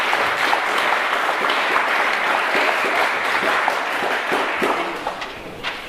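An audience at a community all-candidates meeting applauds, a moderate crowd clapping steadily in a hall before the applause thins and fades out.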